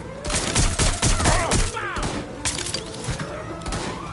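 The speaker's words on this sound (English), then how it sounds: "Someone's shooting!" Rapid bursts of gunfire in a shooter video game crack loudly and close in dense volleys, then thin into scattered single shots and thuds amid the game's background noise.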